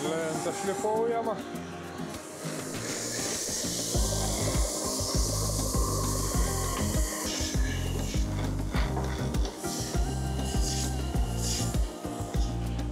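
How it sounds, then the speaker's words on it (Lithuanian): An ash-wood board for a bed frame is being sanded, producing a continuous close rasping rub against a low droning hum that runs under it throughout. "Lenta šlifuojama."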